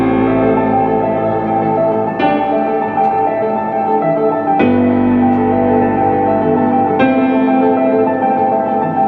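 A lo-fi hip-hop beat built in FL Studio, with mellow piano chords over a reverb-drenched bass. New chords enter softly every couple of seconds, and the sound is warm, sustained and continuous, with no voices.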